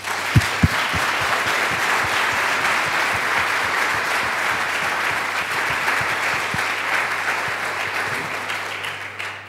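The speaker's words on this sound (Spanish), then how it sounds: "yo creo que se merecen un aplauso, ¿no?, de todos nosotros." Steady applause from a sizable conference audience fills the whole stretch, dense and even, with a couple of sharper claps near the start.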